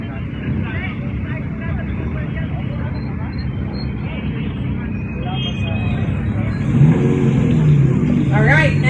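A race car engine drones and revs on a motorsport slalom course at a national slalom series event, steady and fairly loud, rising near the end, with a man announcing over it.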